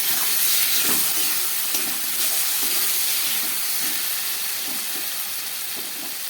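Prawns, potato, onion and tomato fry in a pan with a cashew and poppy seed paste, making a continuous hissing sizzle broken by rhythmic stirring scrapes that fades slightly toward the end.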